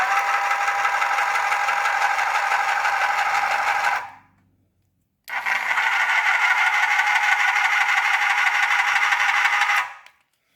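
A 12V electric car jack runs without a vehicle on it, its motor grinding with a loud, rattling whine for about four seconds, stopping briefly, then running again for roughly five seconds as it raises and lowers.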